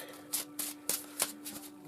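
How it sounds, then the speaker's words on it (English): An oracle card deck being shuffled by hand, five or six quick riffling bursts in a steady rhythm, close and crisp over a faint steady hum. "So just give this deck a last few shuffles"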